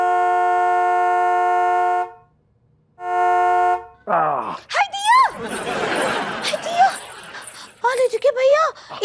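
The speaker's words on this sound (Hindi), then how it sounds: "इतना जोर जोर से हॉर्न कौन बजा रहा है?" Two long, blaring car horn honks sound close by, followed by animated voices talking.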